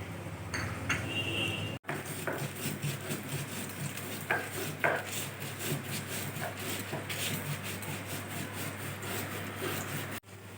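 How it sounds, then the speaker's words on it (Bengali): Jackfruit seeds with coriander leaves and salt ground on a traditional flat grinding stone, a continuous rough rubbing and rasping, rhythmic back-and-forth strokes close by with a couple of brief pauses. "এগুলোকে আমি পাটায় খুব ভালোভাবে বেটে নেব"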